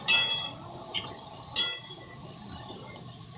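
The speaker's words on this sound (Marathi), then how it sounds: "भाजी हलवून घेऊ।" A spoon stirs fenugreek leaf curry (methi rassa bhaji) in a metal pot on a gas stove, giving a few sharp, close metallic clinks over a quiet background, with no talking.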